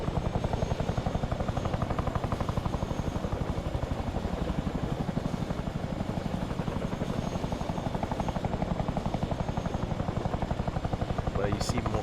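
A Chinook helicopter in ARMA 3 droning with a fast, steady rotor thump throughout, loud and constant as if heard from the cockpit, with radio-style voices talking faintly over it.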